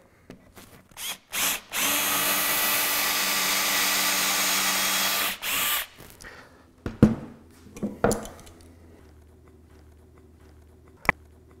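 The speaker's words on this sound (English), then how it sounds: "let's keep drilling" A power drill bores out a stubborn nail lodged in reclaimed wood, with short bursts and then one sustained high whine of about four seconds, followed by scattered knocks and clatter as the work is handled.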